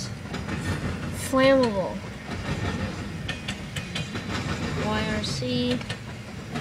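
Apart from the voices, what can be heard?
BNSF freight train cars rolling past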